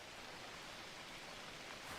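Rain falling in the cozy gardening game Garden Life: a steady, soft, even hiss of rainfall with no distinct drops or other sounds, quiet and brief.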